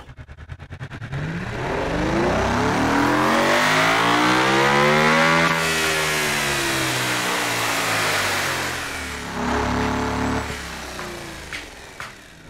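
A hypercar engine in BeamNG.Drive revs up to 10,000 RPM, rising from a rapid idle into a loud sustained scream, peaking and then dropping back, followed by a couple of quick blips, with no talk.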